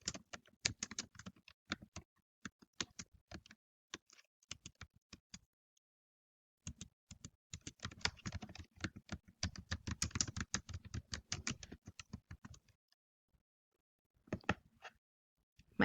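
Typing on a computer keyboard, close and crisp clicking in bursts of rapid keystrokes broken by short pauses, with no talk.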